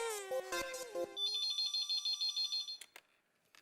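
A phone ringtone for an incoming call plays as a rapid string of bright, pulsing electronic beeps. It follows a brief musical sting and then fades into a few faint knocks near the end. No one speaks.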